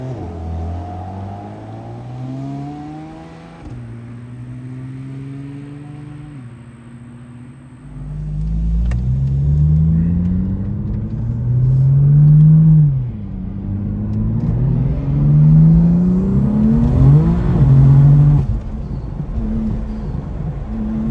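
A BMW M4 with a built S55 engine making about 640 wheel horsepower drives and accelerates, its loud engine note rising and falling through several revving pulls, close and without talk.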